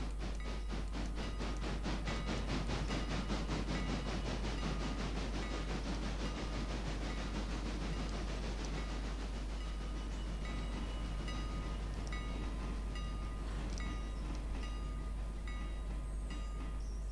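Three railway wagons roll onto a track in the video game Railroader, on the GTR rail network, giving a faint, continuous rumble with rapid rhythmic clicking and metallic squeals, no voices.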